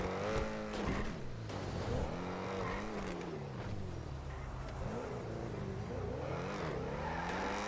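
Game car driving on a FiveM GTA V roleplay server, engine humming steadily and rising and falling in pitch as it revs through gears, fairly close and continuous with no talk.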